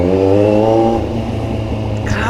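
A Kawasaki Z1000 motorcycle revs hard and accelerates close by, its loud, buzzing engine note steady and strong, with a slight shift in tone partway through.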